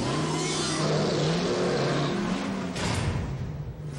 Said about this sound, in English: How do we control the aggressive tendencies of the world's most powerful 10-cylinder truck engine?